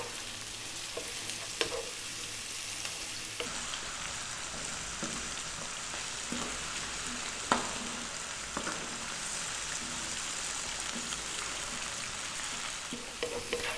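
Onions and garlic frying in a pan over above-medium heat: a lively, continuous crackling sizzle fills the space, dotted with occasional pops and light stirring clicks, close and steady with no talking.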